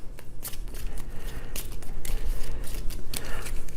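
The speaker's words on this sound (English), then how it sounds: "then they have to shuffle." Cards from a Tanto Cuore board game deck are shuffled close up, giving a steady run of crisp riffling bursts with no talk.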